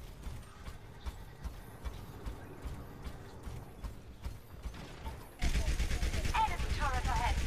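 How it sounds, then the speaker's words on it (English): Bastion's gunfire in Overwatch, a light popping rattle like a BB gun, comes in quick bursts under game effects and players chatting, then swells into a louder dense stretch near the end. "It actually sounds like a BB gun."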